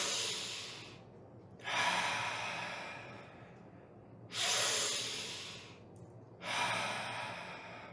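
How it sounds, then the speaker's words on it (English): Deep, slow breaths in a guided breathing exercise, three long airy inhales or exhales rising and fading away, close and clear over a quiet low hum, with no talking. "I invite you to breathe with me."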